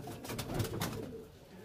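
Chuitiyal pigeons in a loft coo softly and continuously, with a low, steady murmur of birds close by.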